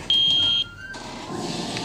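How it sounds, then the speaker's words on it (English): A steady high-pitched electronic elevator alarm beep in a Roblox game sounds for about half a second, followed by a fainter lower tone and soft background noise. "Alarm sounds like this."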